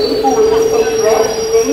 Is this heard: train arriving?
yes